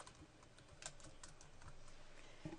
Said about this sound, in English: So I'm going to go ahead and type in Susie Jones here